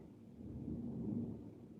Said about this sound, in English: I don't know if you guys can hear the thunder.